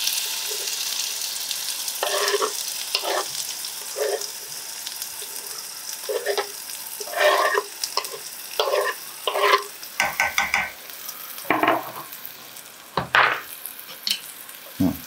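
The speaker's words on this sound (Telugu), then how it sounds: "ఇక మనం ఆనియన్ మిర్చి చేద్దాం. చూడండి ఇది రండి ఎలా సరసరమంటుందో" Onions and green chillies sizzle steadily in hot oil for a Telugu small-fish curry, with repeated scraping stirs and utensil knocks breaking through the continuous frying hiss, close and fairly loud.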